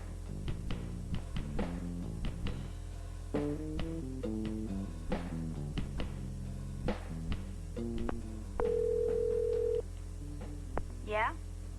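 Digital phone tones in a living-room scene: a run of short, separate electronic beeps at shifting pitches, followed by one longer steady tone and a brief warbling chirp, with people talking around them.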